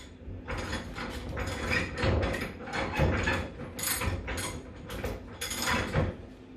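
Steel bar clamped in a Bull Vise bench vise as it is tightened hard with a wrench, giving repeated ratcheting metallic clicks and clunks in rhythmic bursts, close and moderately loud, with no talk.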